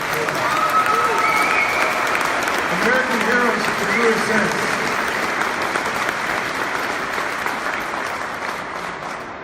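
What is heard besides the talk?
rally crowd applause for legislators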